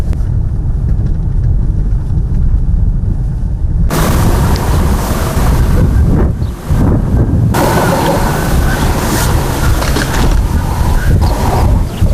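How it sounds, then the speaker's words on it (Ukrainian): Dense reeds on a riverbank rustling and thrashing in strong wind in the countryside, a loud, continuous broadband roar with heavy gusts buffeting the microphone throughout, no voices. "Очеред густенький від вітру ну, шелестить"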